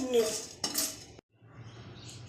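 Whole spices tumble into a metal kadai for a restaurant-style heeng aloo, giving a few bright clinks and rattles close up, then a short silence before faint kitchen noise.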